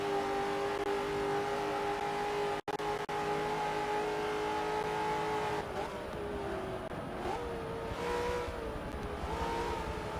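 A NASCAR racing video game at Watkins Glen, with a race car engine revving hard and holding a steady high whine that rises and dips through gear changes and corners, close and continuous.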